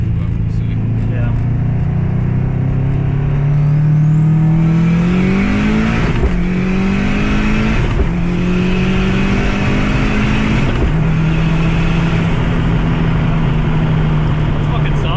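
A big turbo cammed Subaru engine revs loud and close, with its pitch climbing and falling through several rev swells over a steady underlying rumble. A voice talks along underneath.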